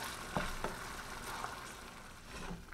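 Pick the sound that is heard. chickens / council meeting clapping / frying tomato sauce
frying tomato sauce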